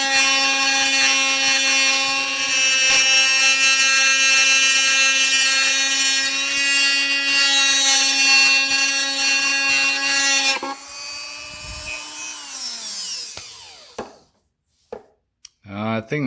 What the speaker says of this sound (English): So that's what I'm doing with a Dremel type tool.